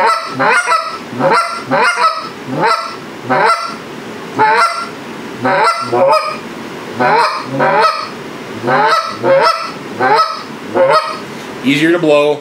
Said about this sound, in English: Easier to blow, more hollow sound, natural goose sound.